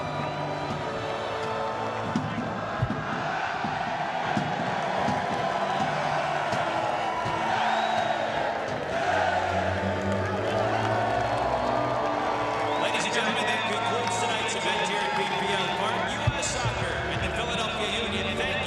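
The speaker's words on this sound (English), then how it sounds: "let's have a nice round of applause and congratulations to the 2014 Lamar Hunt U.S. Open Cup champion" A stadium crowd applauds and cheers the 2014 Lamar Hunt U.S. Open Cup champion Seattle Sounders after their final against the Philadelphia Union, a dense steady roar that holds throughout beneath a commentator's voice.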